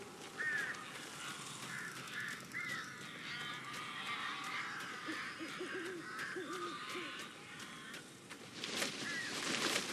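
Crows caw repeatedly in the video game Alan Wake, with harsh calls scattered across a dark ambient backdrop and growing louder and denser near the end.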